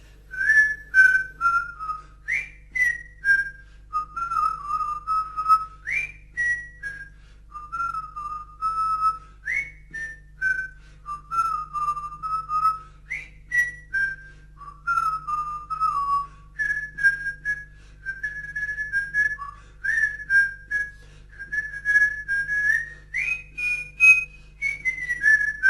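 A lone person whistles the tango La Cumparsita, a melodic line of sustained and sliding notes phrased in steady rhythmic bursts over a low constant hum, clear and close throughout.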